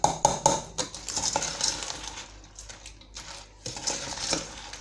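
A spoon scrapes and clinks against a pot or bowl as cornflakes are stirred into still-hot caramel for a cake, in quick irregular bursts that go quiet for a moment and then resume, close by with no talking.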